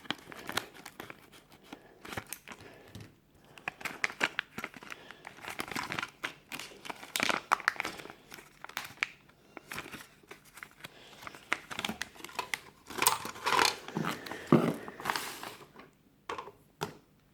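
Toy weapon set packaging, an M16 and RPG, being torn open and unwrapped: loud, close crinkling and tearing of plastic and cardboard in irregular bursts, with no talking.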